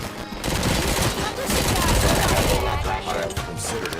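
Rapid bursts of gunfire from the RoboCop Rogue City video game fill the whole stretch, dense and loud, with a voice faintly present underneath.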